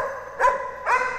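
A six-month-old golden retriever puppy gives two sharp, close barks about half a second apart, loud and clear with nothing else over them.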